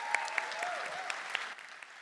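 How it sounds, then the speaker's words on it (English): An audience at the WOW Awards 2014 ceremony applauds in a soft, continuous patter with a few sharper individual claps standing out, fairly distant and faint. "a big round of applause for Sohail being here with us."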